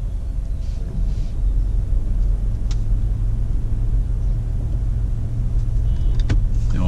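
A Land Rover Discovery Sport pulls away from a stop, its low engine and road rumble steady and close throughout, with a few faint clicks and a brief higher whine near the end.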